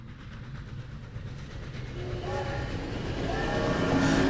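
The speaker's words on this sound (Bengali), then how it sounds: "ট্রেনটা এক বিকট শব্দ করে থেমে যেতেই ধড়মড় করে উঠে বসল প্রফুল্ল" A train runs with a steady low rumble that slowly grows louder, while rising squealing tones appear toward the end as it brakes to a stop, with no voices.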